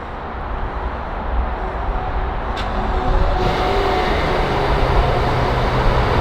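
A Rolls-Royce Dawn with a twin-turbo V12 starts up very quietly, giving a soft low hum that settles into a smooth idle, with faint outdoor ambience around it.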